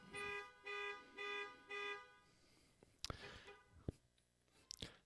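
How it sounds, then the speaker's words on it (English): A car horn sounds four times in a steady rhythm, faint and distant, followed by scattered clicks and knocks. "someone's car horn going off."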